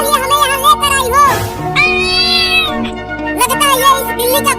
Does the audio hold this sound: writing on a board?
no